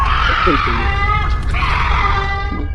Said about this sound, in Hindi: तभी आधी रात को किसी की जोर जोर से चिल्लाने की आवाज आने लगती है।